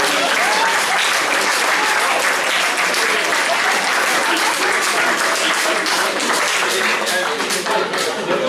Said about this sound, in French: On va pouvoir les applaudir.